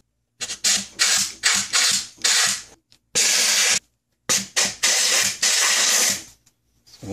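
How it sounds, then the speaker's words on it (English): Compressed air from a nozzle blowing grit out of the cylinder head bolt holes on a Toyota 5VZ-FE engine, a series of loud hissing blasts of varying length separated by short silences. "Then using compressed air and a rag,"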